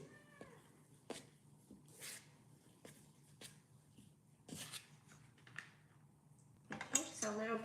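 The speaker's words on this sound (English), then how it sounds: "Don't start your meowing at me." A cat meows several times in short bursts on a farm, moderately close, with a person talking nearby and occasional clinks of dishes and handling noises between the calls.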